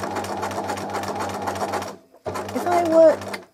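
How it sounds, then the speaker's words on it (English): Sewing machine stitching fabric in a rapid, even needle rhythm, loud and close, stopping briefly and then resuming, with a voice talking over it. "If I press the foot very gently and move the fabric faster, I get a bigger, more stitch-like stitch."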